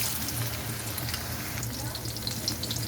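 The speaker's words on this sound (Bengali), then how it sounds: "সবগুলো একসাথে আমি ভেজে নিচ্ছি।" Potatoes and carrots fry together in hot oil in a pan, a steady close sizzle with soft crackles and occasional stirring scrapes, no voices present.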